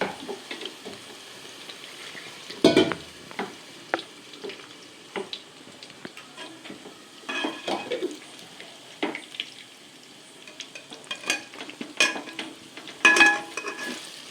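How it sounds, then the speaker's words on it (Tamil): Wheat rava and ground paste being roasted and stirred in a pan, scraping and clattering strokes of a spoon at irregular intervals over a low background, with occasional louder knocks against the pan. "இதை நம்ம இப்போ நல்லா வறுக்கணும்."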